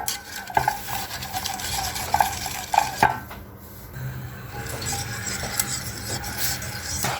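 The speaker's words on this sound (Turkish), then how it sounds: "kaynayana kadar karıştırmaya devam ediyoruz" A spoon scrapes and stirs brownie sauce steadily around a metal pot as it comes to a boil, with occasional sharper clinks against the side and a faint sizzling bubble underneath.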